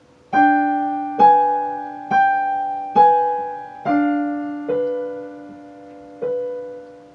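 Keyboard playing a slow passage from Khachaturian's Andantino, seven separate chords struck at an even, unhurried pace, each ringing and fading before the next, clear and close with no voices.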